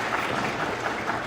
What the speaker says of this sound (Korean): 큰 박수로 축하해 주시면 감사하겠습니다.